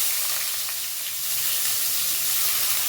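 Chopped onions dropped into hot oil with popping mustard seeds and cardamom, giving a bright, steady hiss that stays loud and even throughout without any talking.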